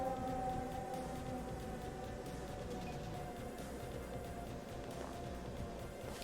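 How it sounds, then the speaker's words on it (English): A passing ambulance siren wails faintly and steadily in the distance outdoors, a continuous tone under a broad hiss of background noise, with no talk. "Just in case it didn't get picked up there, an ambulance went by."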